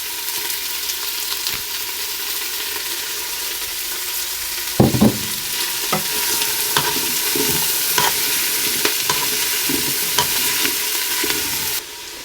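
Onions softening in oil in a pan, a constant close sizzle with a spoon scraping and stirring in repeated strokes through the second half, ending abruptly.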